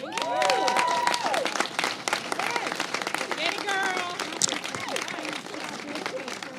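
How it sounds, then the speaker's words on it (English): A crowd at a Women's Equality Day press event claps in sustained applause, with voices calling and talking over the clapping and the sound easing slightly toward the end. "Please join me in another round of applause for Supervisor Stephanie."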